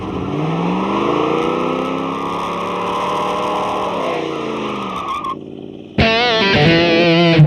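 A V6 Camaro and a Mustang GT race, engines roaring and tires squealing loudly up close, then a brief lull before another burst of revving and skidding.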